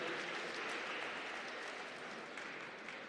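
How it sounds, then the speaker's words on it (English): An audience at a decentralisation and local governance event applauds a youth cultural group. The clapping is dense and sustained, a steady roar of many hands that tapers only slightly toward the end. "Please give them a deserving round of applause."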